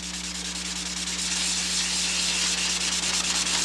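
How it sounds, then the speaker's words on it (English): Continuous close-up rubbing of M600 sandpaper on a block over a dried filler coat on a model aircraft flap, a steady bright hiss with a faint rhythmic scratch and a constant low hum underneath. "Once this material is dry and you're sanding it with M600"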